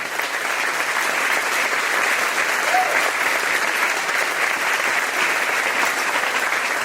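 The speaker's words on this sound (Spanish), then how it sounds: "Fuertes aplausos a Jesús." A church congregation applauds during a Catholic service. The clapping is steady and even, moderately loud, and fills the whole stretch without pause.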